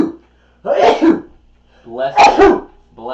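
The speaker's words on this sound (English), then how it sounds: "Holy sneeze attack." Two forceful, explosive bursts a second or so apart, close and loud, like a person sneezing twice.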